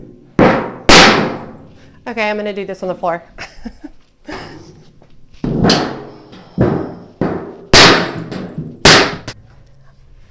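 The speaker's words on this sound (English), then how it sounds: "utilize a screwdriver, a Phillips head screwdriver, and a hammer, and go ahead and poke a few holes in the bottom" Several sharp metallic bangs of a hammer driving a Phillips screwdriver through the thin metal bottom of a planter strike in an irregular series close by, with a person speaking briefly between the early hits.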